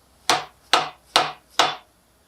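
Four sharp hammer whacks land in an even rhythm on an AMC 304 V8 engine during a rebuild, each a loud close strike with a short decaying ring, set apart by brief quiet gaps.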